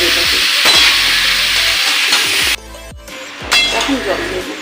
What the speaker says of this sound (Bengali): কুমড়ো, আলু, ছোলা একসাথে দিয়ে দিলাম। দিয়ে ভালো করে নেড়ে একটু ভেজে নিতে হবে এটাকে।